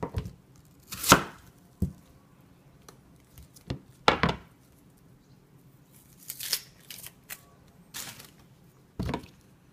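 Green asparagus peel is chopped finely with a knife, giving sparse, irregular sharp taps and crisp cuts close by, separated by quiet pauses, with no voices.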